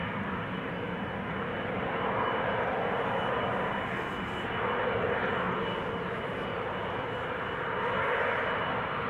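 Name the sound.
jet airplane at Schiphol Airport runway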